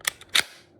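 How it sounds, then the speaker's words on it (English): Two sharp metallic clicks from dry trigger pulls on an unloaded, cleared gun at a shooting range, close and crisp with a short gap between them. "when I pull that trigger, y'all see that? That push forward"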